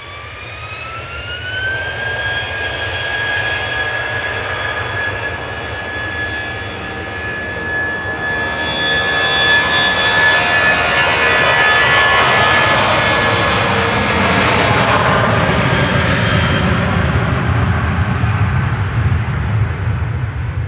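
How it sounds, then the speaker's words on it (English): A 22-year-old British Airways Airbus A320 Classic roars past at Manchester Airport, jet engines whining with a rising tonal pitch that swells into a loud, broad rush as it nears and passes. "This is an A320 Classic, 22-year-old aircraft for operating for British Airways"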